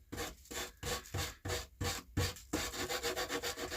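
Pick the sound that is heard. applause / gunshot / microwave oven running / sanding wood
sanding wood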